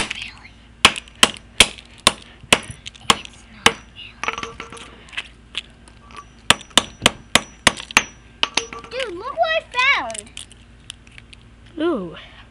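A hammer strikes a plastic toy phone over and over in sharp, loud bangs at an uneven pace. Voices talk between the blows near the end.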